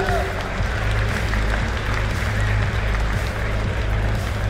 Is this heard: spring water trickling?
no